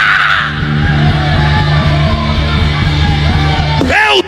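A church congregation at a Portuguese-language evangelical service shouts a loud cry of glory, a sustained roar of many voices over steady organ-like backing music, loud and continuous throughout, with a brief rising shout near the end.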